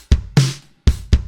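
A punchy, gritty drum pattern for a disco-pop groove, processed with Ableton Saturator: heavy kicks and a crunchy snare hit in a slow, even groove.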